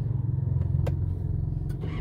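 An Isuzu MU-X engine with an idle problem runs with a steady low rumble close by, a couple of brief clicks over the drone and no speech.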